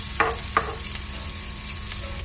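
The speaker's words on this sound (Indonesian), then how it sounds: "Kita tumis, aduk hingga merata." Butter and flour sizzle steadily in a pan for Swedish meatball sauce, with a few sharp scraping clicks of a spoon stirring against the pan.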